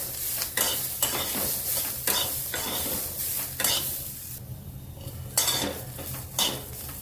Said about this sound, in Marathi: तेलाने छान अशी आपली शेंग भाजते, त्यामुळे थोडंसं तेल टाकणार आहे.